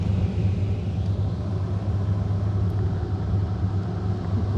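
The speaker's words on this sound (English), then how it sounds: "Thunderstorms are moving over our position." Low, continuous rumble of thunder during a heavy rainstorm, heard from inside a small Casita RV, broad and steady throughout with no clear separate claps.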